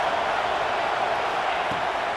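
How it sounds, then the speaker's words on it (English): Dense stadium crowd roar from a college football video game, a steady loud wash of massed voices with no break, filling the whole moment. "Listen to this crowd just shaking the girders of this place, trying to help their defense."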